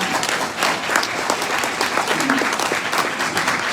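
A State of the City audience breaks into applause after news of two more park acres, loud continuous clapping from many people with some crowd murmur underneath.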